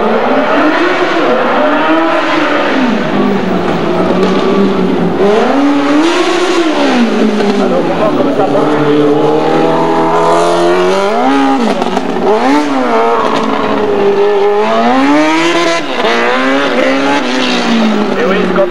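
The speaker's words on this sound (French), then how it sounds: "c'est un moteur de moto" A motorcycle engine powers a competitor at a 1991 car chase race in Villeneuve-sur-Lot, revving up and down in repeated rising and falling sweeps, loud and close, while people talk over it.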